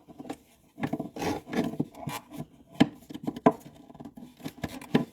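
Screws on the track tension locking plate of a Lymow robotic mower are loosened by hand, giving close, intermittent metallic scraping and rubbing clicks in short bursts.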